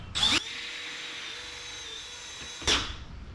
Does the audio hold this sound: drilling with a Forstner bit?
yes